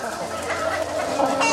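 A white hen clucks as a sound effect in a narrated story, a steady run of close, fairly loud clucks with no talking over it.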